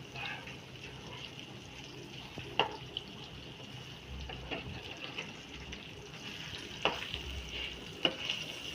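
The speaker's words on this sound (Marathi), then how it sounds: "गॅस बारीक करून हे 7-8 मिनिटं मी हे बोंबील फ्राय करून घेणार आहे" Bombay duck (bombil) fish fries on low heat in a pan, giving a soft, steady sizzle with occasional faint pops and clicks, quiet and without talk.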